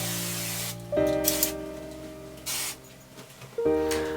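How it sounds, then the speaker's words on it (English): Two short bursts of hissing spray from an aerosol can of hairspray, with a broad airy hiss between steady background tones. "I'm going to spray that with some hairspray"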